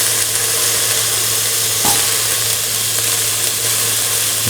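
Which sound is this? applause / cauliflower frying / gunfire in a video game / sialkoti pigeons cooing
cauliflower frying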